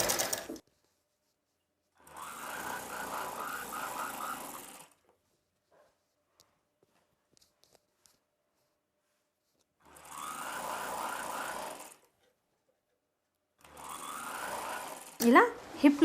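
A sewing machine stitches the side seam of a sleeveless umbrella dress in two bursts of steady, close whirring, each a few seconds long and separated by silence. A third short burst ends with clicks and handling noise.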